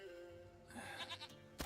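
A video game goat in a swamp setting gives a short bleat, followed by a quieter stretch and a sudden loud burst at the end. It sounds close and fairly faint, with no speech.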